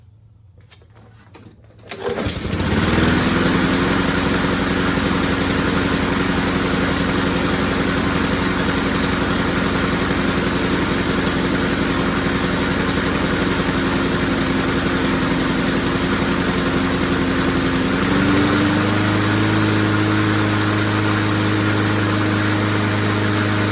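A Honda-engined lawn mower, fitted with a swapped Honda-style blade adapter, starts up after a short quiet moment and runs steadily and loudly with a constant engine drone. Its pitch shifts slightly near the end.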